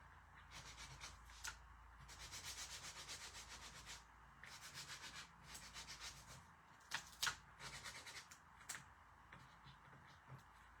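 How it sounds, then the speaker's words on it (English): Wooden pieces for a witch broom craft are hand-sanded in quick back-and-forth rasping strokes, close and steady, with a few sharper taps and scuffs near the end. "I want to sand these a little bit"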